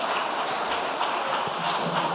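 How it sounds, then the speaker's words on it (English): Audience applause for competing junior high schools at a grand-finale quiz contest, a steady dense wash of clapping throughout, fairly loud and even with no talk over it. "Please clap for them."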